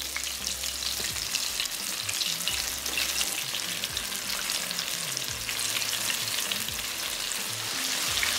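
Besan-coated shrimp deep frying in oil inside a frying basket, giving a steady, loud, dense sizzle and bubbling hiss that holds evenly throughout with no talking.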